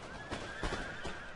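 Cavalry horses neigh during a Napoleon Total War online battle: a few short whinnies rise over soft hoof clatter and dense battlefield noise.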